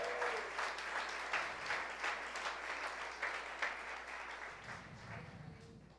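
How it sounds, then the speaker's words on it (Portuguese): A congregation at a church sermon applauds, a dense, steady patter of many hands clapping that softens slightly toward the end. "Você podia dar um aplauso a Jesus por isso"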